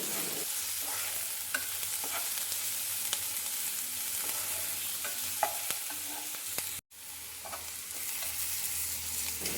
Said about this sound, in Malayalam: പിന്നെ ആവശ്യത്തിന് ഉപ്പോടെ ഇട്ട് കൊടുത്തിട്ട് അതൊന്ന് ഇളക്കി കൊടുക്കുക കേട്ടോ.